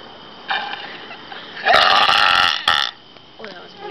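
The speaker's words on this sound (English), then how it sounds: "She's gonna burp in the street." A woman burps loudly outdoors on a street, with a short belch followed by a longer, louder drawn-out burp and a brief final one, over quiet street background.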